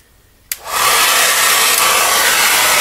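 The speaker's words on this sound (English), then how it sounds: "So you take a hair dryer." A brief click, then a hair dryer starts up on low and blows steadily with a constant airy whir, close and loud.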